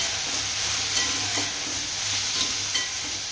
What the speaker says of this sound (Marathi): आता चांगलं मिक्स करून घेऊया